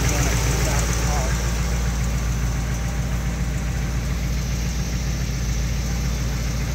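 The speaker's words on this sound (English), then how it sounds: "Got a little bit of an exhaust leak." A 1959 Chevy Impala engine idles steadily up close with a rough, ticking exhaust puff from an exhaust leak, loud and continuous, with talk faintly mixed in.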